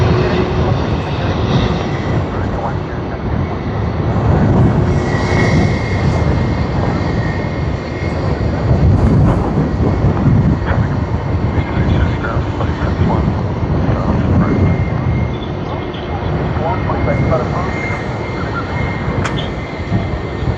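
A Jetstar airliner at Sydney Airport roars loudly and continuously for about twenty seconds, a dense, steady jet-engine rush that swells slightly, with faint voices beneath it.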